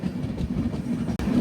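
The Alleppey–Dhanbad Bokaro Express runs along the track, a loud, steady low rumble of wheels and carriage heard from on board, with a brief sharp break near the end.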